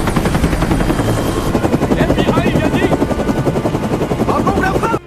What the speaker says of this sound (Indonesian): dari balik pegunungan muncullah sebuah helikopter FBI yang datang untuk menangkap Bob dan Mimpos